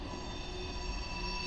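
Freight trains pass through a rail junction where a CP-KC intermodal train with BNSF locomotives meets a UP manifest train, giving a steady, continuous rumble and droning hum with no distinct horn or squeal.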